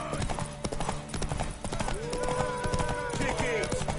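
Horse hooves clip-clop steadily and close in The Witcher 3: Wild Hunt on PS5, a brisk trotting rhythm that runs throughout beneath game voices and background music.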